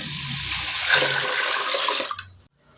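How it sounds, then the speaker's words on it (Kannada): Water pours into a pot of toor dal in a steady gushing stream for about two seconds, then quickly tapers off into silence. "ಸ್ವಲ್ಪ ಜಾಸ್ತಿನೇ ನೀರು ಹಾಕ್ಕೊಳ್ತಾ ಇದ್ದೀನಿ."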